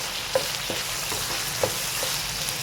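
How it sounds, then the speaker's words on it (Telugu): Okra pieces frying in oil over a medium flame with turmeric for a curd bhindi masala curry: a steady close sizzle with a few soft stirring clicks, no voices. "కాస్త మీడియం ఫ్లేమ్లోనే పెట్టుకొని ఫ్రై చేసుకోండి"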